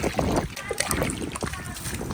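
Water splashes and sloshes in uneven bursts as it is poured over a child's head during a bath, with a voice talking over it.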